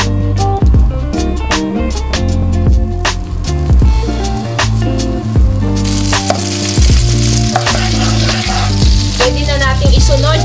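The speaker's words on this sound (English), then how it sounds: "Papainitin na natin ngayon ang ating wok. Lagay na natin itong butter." Butter melts in a hot wok, giving a loud, steady sizzle and crackle throughout, with scattered pops and utensil clinks and a brief voice in the background.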